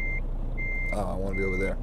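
A truck in Euro Truck Simulator 2 emits steady, evenly spaced high reversing beeps under a low engine hum, while someone talks over the middle beeps.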